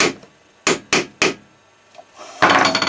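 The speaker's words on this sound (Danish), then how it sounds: "Og der kan du tage søm og hammer." Hammer striking a nail, four sharp close knocks in quick succession followed by a short pause and a louder scraping, rustling burst, with no speech over it.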